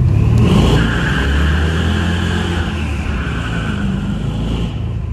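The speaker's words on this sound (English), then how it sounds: "You can listen to the exhaust." Exhaust of a 1978 Chevrolet Corvette at half throttle echoes inside a tunnel, a loud steady rumbling drone that fades slightly toward the end, with no talking.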